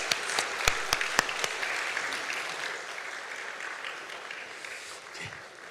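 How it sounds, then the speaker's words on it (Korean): A church congregation at a Sunday worship service applauds to cheer on children, beginning with a few sharp separate claps that swell into a broad, steady wash of clapping before gradually fading, with no talk over it. "우리 박수 한번 해주시면 감사하겠습니다."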